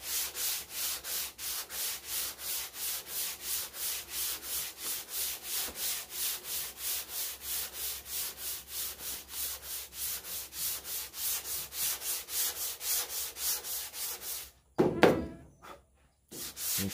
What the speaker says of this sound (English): So the sandpaper is barely used. I was doing just the top of it.